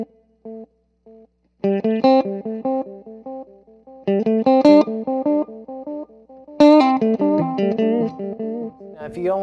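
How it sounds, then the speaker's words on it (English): Electric guitar notes played through a VANGOA analog delay pedal, each phrase trailed by echo repeats that fade and degrade, with short picked lines building into denser, louder passages. "You hear that decay, the degrading of the echo as it gets"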